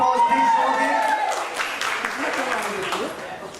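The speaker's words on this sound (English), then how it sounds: "Come on, round of applause, please, Sumukhi." Book-launch crowd applauds as a female comedian is welcomed onstage. Clapping and cheers build beneath a speaking voice and a brief musical tone, then continue at moderate volume.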